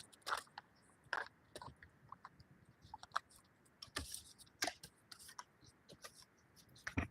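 A dog crunches and chews a treat in short irregular bursts of crisp, close biting sounds over a quiet indoor background.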